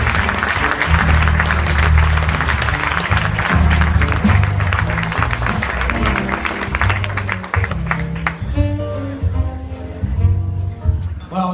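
An audience claps in sustained, dense applause at a hall of fame induction ceremony honoring Charlie Fox, loud throughout and thinning toward the end as individual claps stand out.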